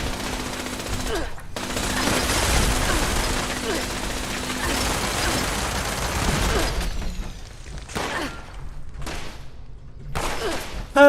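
Turret gunfire in the video game Fallout 76, sustained rapid automatic fire with booming impacts, then broken into separate bursts separated by silences, with voices talking under it.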